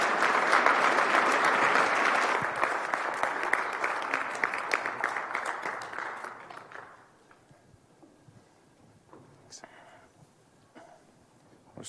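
A conference audience applauds as a panel takes the stage, dense clapping for about six seconds that thins and fades out, followed by quiet room noise and faint movement.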